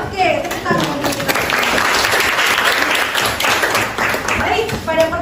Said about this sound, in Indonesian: tepuk tangan untuk kita